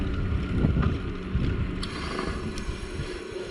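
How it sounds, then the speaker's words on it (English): Rough, rumbling wind buffets the microphone outdoors, gusting stronger then easing, with faint clicks in the background. "Wind is quite vicious in places."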